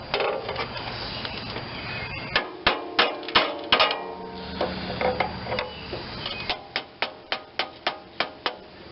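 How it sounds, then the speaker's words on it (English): Hammer blows on a part from a Briggs and Stratton twin cylinder tractor: irregular close metallic strikes at first, then a steady run of about seven evenly spaced knocks at the end, with no talking. "give it a little hammer action maybe"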